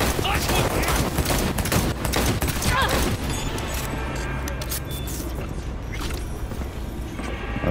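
Rapid automatic gunfire in the video game Cyberpunk 2077, a dense burst of loud shots and mechanical clatter that gradually thins out, with a voice speaking briefly.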